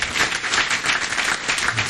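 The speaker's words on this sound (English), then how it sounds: "Give yourselves a big round of applause" Brief burst of crowd applause in a city council meeting chamber, a few seconds of dense clapping at moderate volume.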